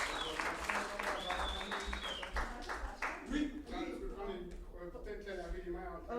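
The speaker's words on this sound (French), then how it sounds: "On peut l'applaudir." A conference workshop audience claps for a volunteer, a short burst of applause at moderate distance that fades after a few seconds while voices talk and exclaim over it.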